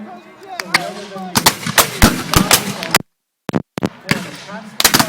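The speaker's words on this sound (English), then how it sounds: "so firing at will, and you have a much more constant fire going" Rapid, irregular volleys of musket-style blank fire from a historical reenactment, soldiers firing at will at a Memorial Day weekend event in Greenfield Village; loud sharp cracks in close succession with brief pauses, people talking in between.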